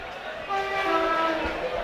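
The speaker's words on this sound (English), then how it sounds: "the train goes right behind and sounds the horn at exactly the right moment" Train horn blaring steadily for over a second as a train passes behind a football stadium during a Dorchester Town versus Poole Town match, loud sustained tone with faint crowd murmur beneath.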